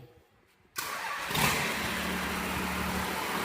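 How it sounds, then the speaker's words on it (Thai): A Komatsu PC200-5 excavator's diesel engine starts after hydraulic pump repair, a sudden loud catch into a steady rumbling idle with a brief rev, heard close and alone. "ติดเครื่องเลยครับผม"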